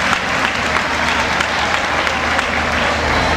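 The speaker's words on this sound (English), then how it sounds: "Let's give him a hand of applause" A theater audience at a 1990 awards ceremony claps steadily and loudly, a dense wash of many hands that holds for several seconds.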